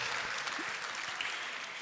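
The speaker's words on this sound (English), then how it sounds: "let's applaud this amazing group" Audience applause for an award group at the 2021 AL DÍA 40 Under Forty ceremony, a steady, dense wash of many hands clapping throughout, fairly close and even in level, with no voices standing out.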